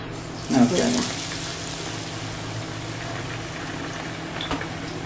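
Bread slices coated in besan batter are slipped into hot oil over a low gas flame, giving a brief louder splash and then a steady, moderate sizzle and hiss while someone talks.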